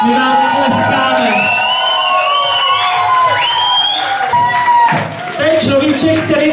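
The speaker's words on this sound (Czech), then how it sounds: "My vám děkujeme, my vám tleskáme." Loud audience cheering, whooping and shouting at a travesty show in Sedlec-Prčice, a dense close crowd roar with some applause mixed in, sustained throughout with a brief dip near the end.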